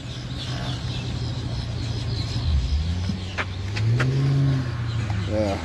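Ford Mustang engine at a cars-and-coffee meet, a steady low rumble that swells into a louder rev near the end, with people talking nearby.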